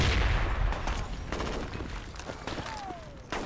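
Gunfire in a shooter video game: a loud burst of shots opens, followed by scattered sharp reports and rattling, close and punchy, with no clear talk.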